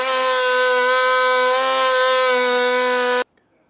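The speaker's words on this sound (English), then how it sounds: "I do think I'm going to notch out a little portion here just to make clearance" A power tool cuts a notch in the plastic front fascia of a 2022 Jeep Grand Cherokee, a loud, steady buzzing whine that runs for about three seconds and then stops abruptly, leaving near silence.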